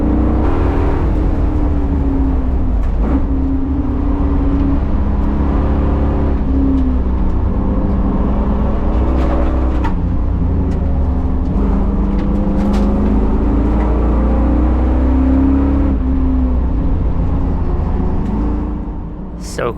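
Cars race on a track at Streets of Willow, with a vintage Nissan 280Z running ahead. Engine drone is loud and sustained, and the pitch climbs and falls through gear changes from inside a following car.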